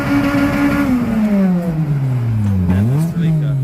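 Nissan 200SX engine at a car meet, rising and falling through revs as the car passes nearby, a steady loud drone whose pitch dips and climbs again, with voices talking over it.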